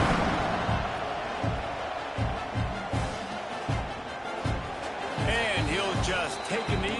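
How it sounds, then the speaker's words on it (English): A football stadium crowd buzzes before a kickoff in a game involving the Tide, a broad roar and murmur with thumps and scattered cheers, heard under a commentator talking throughout. "this crowd is buzzing after that last score"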